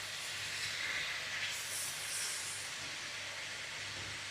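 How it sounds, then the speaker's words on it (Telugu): Amaranth leaves with onions and turmeric sizzle in a pan as they are stirred, a steady close hissing fry with no other sounds. "ఇప్పుడు మెల్లగా ఒకసారి కలిపేసి"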